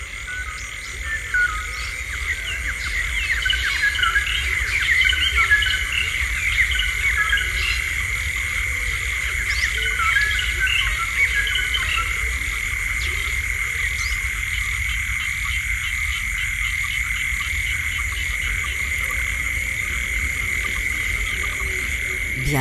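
Frogs and insects at night fill the air with a dense, steady chorus of croaks and continuous high trilling, unbroken and fairly loud throughout.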